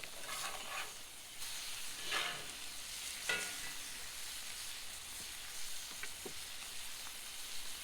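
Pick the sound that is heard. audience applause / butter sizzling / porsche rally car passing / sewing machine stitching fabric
butter sizzling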